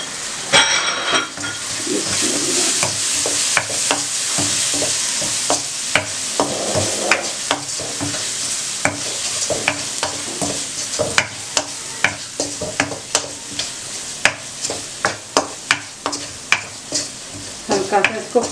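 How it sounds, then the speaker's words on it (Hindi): Masala frying in a pan for spinach egg curry, a loud continuous sizzle with a spatula stirring and sharp repeated scrapes and knocks against the pan, growing more rhythmic toward the end. "चंद सेकंड के लिए इसको फ्राई करना है और टमाटर डालने हैं।"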